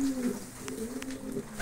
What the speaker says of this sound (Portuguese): E a pombada tá tratando os filhotes que ficaram aí direitinho.